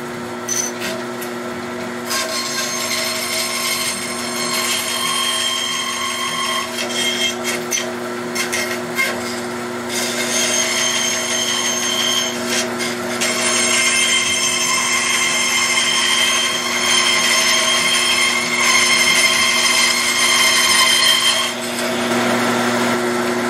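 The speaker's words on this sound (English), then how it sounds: "I thought maybe I'd come over here in the bandsaw and try and cut it out there." A bandsaw cuts through a piece of wood in a workshop, its motor holding a steady hum with a bright whine while the blade grinds and rasps through the cut, shifting in intensity as the work is fed.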